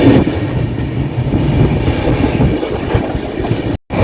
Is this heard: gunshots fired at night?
no